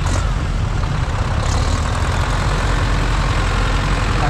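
A Zetor 7211-based bus tractor idles at a vintage tractor show, a loud, close, steady low diesel rumble that holds an even beat throughout with no voices.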